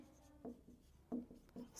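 Soft pen or pencil strokes scratch on paper during a math lesson, a few quiet, close scribbles separated by brief pauses.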